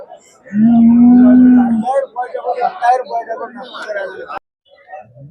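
A dairy cow gives one loud, low, drawn-out moo close by at a cattle market in Karunkalpalayam, followed by people talking nearby.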